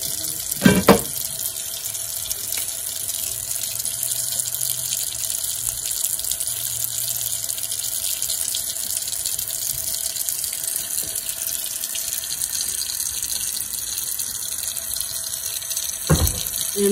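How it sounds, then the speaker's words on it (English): Hot water runs steadily from a kitchen sink tap while grease from 80-20 ground beef is drained, a continuous broadband rush lasting throughout with a couple of brief clunks near the start and end. "I am going to drain my meat, and I always turn on the hot water"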